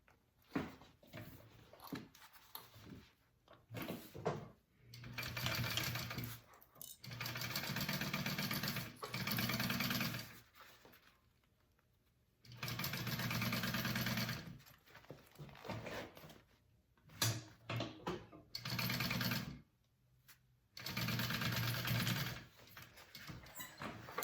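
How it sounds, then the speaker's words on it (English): A sewing machine bastes layers of a fabric pouch in repeated bursts of stitching, several seconds each, separated by short quiet pauses, close and fairly soft. "And I'm going to baste this down first."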